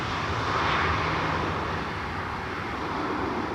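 Vueling airliner arriving at Schiphol, a steady broad jet engine rumble, fairly loud and even for a few seconds with no voices.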